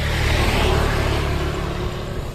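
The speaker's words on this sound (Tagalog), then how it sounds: "Sasakay ko motor." A motorcycle engine pulls away with a steady low hum and a slight rise in revs, close by and fairly loud.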